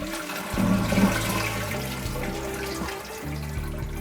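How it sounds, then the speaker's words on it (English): A household toilet flushes loudly and close by, a rushing gurgle of water draining and swirling for several seconds before settling into refill flow. "Now we need to flush the toilet."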